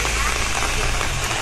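Rain falls steadily on the way to the Kyoto bamboo forest, a close, dense patter that stays loud and continuous throughout.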